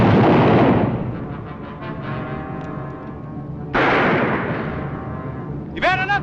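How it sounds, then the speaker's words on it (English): Gunfire in a TV western shootout: a loud, close blast at the start decays into a ringing tail, then a second sharp shot follows midway, with a brief voice near the end. "When I raise my gun, you start a firing."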